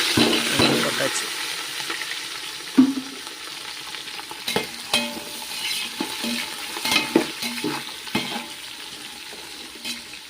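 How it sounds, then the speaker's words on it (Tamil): Onions sauté in oil for a homemade dum biryani, with a bubbling sizzle under repeated scraping and clattering as a spoon stirs them, loudest at the start and then in uneven bursts. "வதங்கின பிறகு நம்ம வெங்காயம் எல்லாம் போட்டு நல்லா வதக்கணும்."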